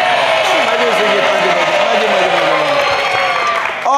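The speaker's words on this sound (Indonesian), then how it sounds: "Tepuk tangan untuk kedua tim kita" On a Family 100 television game-show set, a studio audience applauds both competing teams, a dense wash of clapping running steadily beneath a voice and bright background music before it breaks off abruptly.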